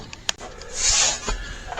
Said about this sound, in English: So let's get the belt sanding.